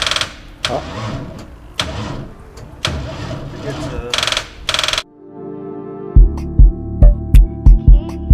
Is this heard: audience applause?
no